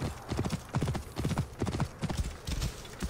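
Steady clip-clop of a horse trotting on a narrow path in the video game Assassin's Creed Origins, even and rhythmic, fairly close with no talking over it.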